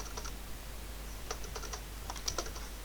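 Close keystrokes tap on a computer keyboard in short irregular bursts, sparse at first and then quicker, with quiet gaps between them and no talk.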